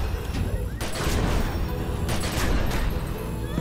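Gunshots fired at zombies in the video game The Secret World, heavy booming blasts over continuous loud game noise, with two distinct impacts standing out around the first and second seconds.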